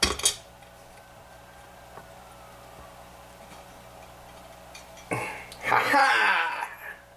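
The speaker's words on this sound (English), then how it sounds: "How do you lift a cast iron Bundt pan that is lying flat?" A heavy cast iron Bundt pan lying flat is lifted, giving a sharp clank at the start, then a louder burst of metallic scraping and clattering near the end. A brief vocal sound accompanies it.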